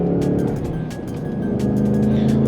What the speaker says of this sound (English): Oh yes, this sounds so good. So intoxicating, this V8 noise.